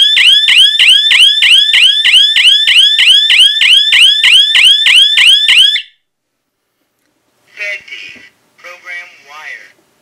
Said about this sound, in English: There's a minimum time that this siren will be on once the timer has run out.